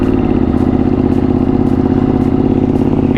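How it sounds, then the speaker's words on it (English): A Ducati V2 motorcycle with an aftermarket exhaust system idles and revs steadily close by, a deep throbbing, clattery engine note running continuously without pause and with no talk over it. "You can hear that exhaust already."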